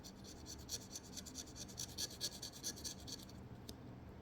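A coin or fingernail scratches across a scratch-off card in quick, light rasping strokes, close and faint, coming in a run of short repeated scrapes.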